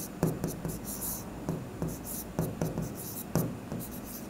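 A pen scratches across paper while someone writes out an accounting journal explanation by hand, in short, closely miked strokes with a brief pause between bursts.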